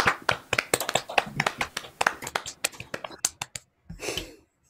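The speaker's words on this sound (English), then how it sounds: "unmute and give themselves a huge round of applause" Youth orchestra musicians clap over a Zoom call after a concert: many close, uneven hand claps from separate microphones fill the first three and a half seconds, then thin out, ending in a brief breathy noise burst.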